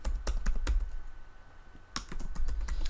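Fingers typing a project name on a computer keyboard, two bursts of close, crisp key clicks separated by a short pause.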